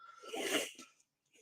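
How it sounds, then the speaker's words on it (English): A single close sneeze from someone troubled by pollen allergies, a sharp breathy burst with a short vocal tail, followed by brief quiet. "I think I'm going to sneeze."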